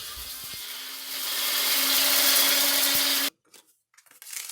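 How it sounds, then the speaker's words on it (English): A blender grinds dehydrated placenta pieces into fine powder, a steady high whirring motor that swells louder midway, then cuts off abruptly, leaving near silence with faint clatter. "the pieces are then put into a blender to be ground into a fine powder"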